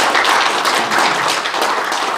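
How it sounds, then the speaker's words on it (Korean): An audience at a general meeting applauding, a dense, even wash of many hands clapping close by, steady and loud throughout with no talk over it. "여기에 명예회원 오신 분들을 위해서 우리 박수 한번 또 쳐주시기 바랍니다."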